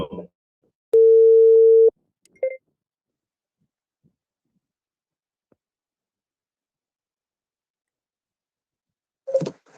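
A single steady phone tone sounds for about a second while calling Kate, clear and isolated, followed by brief clicks and near silence, with a short voice fragment at the very end.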